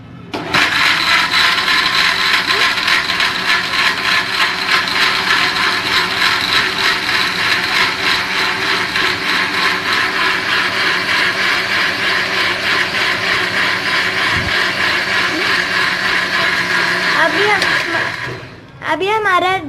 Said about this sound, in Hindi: अब हम इसमें आइस डालेंगे और अब हम इसमें लेमन जूस डालेंगे और इसे अच्छी तरह ग्राइंड कर लेंगे।